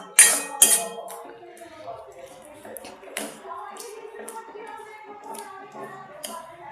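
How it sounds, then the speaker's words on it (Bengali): Raw green mango chutney being stirred in a pot, with a couple of sharp utensil knocks near the start and then soft, steady scraping and clinking in a quiet kitchen. "আমি ভালো করে আগে মিশিয়ে নেবো, তারপর আমি চিনিটা দেবো।"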